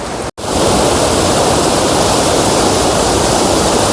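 A fast river current rushes in a loud, steady broadband roar after a brief dropout at the start, close and unbroken with no voices.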